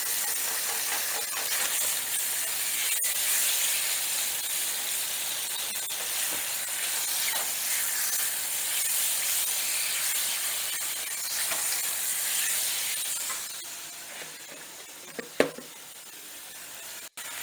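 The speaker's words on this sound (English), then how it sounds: "I started dumping my peppers and my meat, and let's get those peppers nice and cooked" Peppers and steak meat sizzle with garlic in a hot pan, a steady broad hiss that fades slightly near the end, followed by a couple of sharp utensil knocks.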